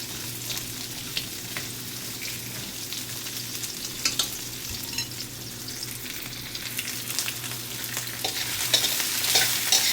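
Onions are stirred in a hot pan for a fish curry with carrots and potatoes, giving a steady sizzle with scraping spatula strokes that grow slightly louder toward the end, with no talking.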